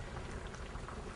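Alcohol flaming and burning off in a pan of banana flambé, a soft continuous crackling hiss with a rain-like texture, steady and close, no voices.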